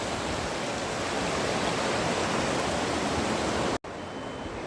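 Steady, dense rush of river water flowing nearby, a continuous broadband wash with a brief cut near the end before resuming slightly softer.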